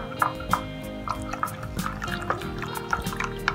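Water is poured a little at a time into jowar flour for a soup, giving soft liquid splashes and drips in several short bursts at close range, with no one speaking.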